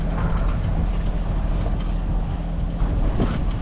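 A sailboat pushes through waves on open water, a steady loud roar of wind buffeting the microphone mixed with sloshing water throughout.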